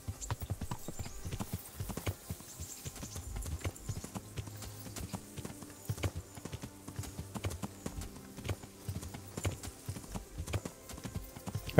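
Horse hooves clip-clop steadily as a horse is ridden in the medieval game Kingdom Come: Deliverance, a close, rhythmic clatter of repeated hoofbeats over quiet background music.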